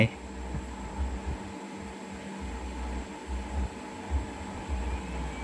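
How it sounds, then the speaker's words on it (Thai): Twin cooling fans in a SUOER 600VA grid-tie inverter run quietly and steadily, a soft constant whir with low hum, close by and without talk. "พัดลมหมุนปกติทั้งสองตัวเงียบไม่มีเสียงดังนะครับ"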